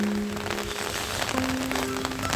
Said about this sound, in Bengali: সকাল থেকে বৃষ্টি পড়ছে